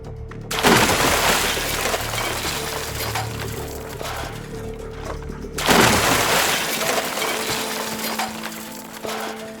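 A plane crashing into the sea, rendered as a loud sound effect: two heavy shattering, breaking impacts, the second about five seconds after the first, each trailing into sustained rumbling, splashing debris.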